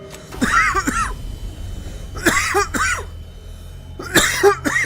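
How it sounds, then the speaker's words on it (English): Three separate bursts of coughing, each a short rough hack, spaced a couple of seconds apart over a low background rumble. "Excuse me, I had a cough."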